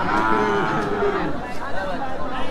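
Cattle, including small local bulls, moo at a village cattle market in Bangladesh, a long, low lowing call sounding over a faint murmur of the crowd in the background.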